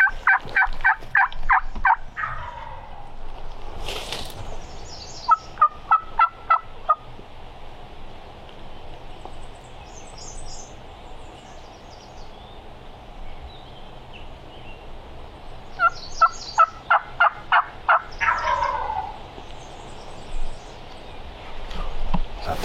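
Wild turkey gobbler in the woods, rapid rattling gobbles bursting out several times, fairly close and loud, with long quieter stretches of low drumming, rustling and ambient outdoor noise between calls.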